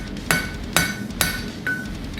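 A hammer strikes a cold metal road spike four times at an even pace, each hit a sharp, ringing clang, close and loud, with the spike being bent and straightened on an anvil.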